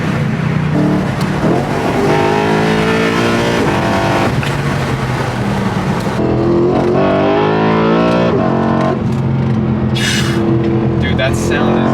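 BMW E90 M3 with the S65 V8 accelerating hard on a test drive, the engine rising in pitch through the revs with a loud, close scream that dips at a shift and climbs again, while people talk over it.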